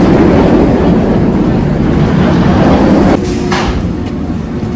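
A loud, steady rumble of the empty Great White roller coaster train at SeaWorld San Antonio rolling along its track, close by, easing and quieting toward the end.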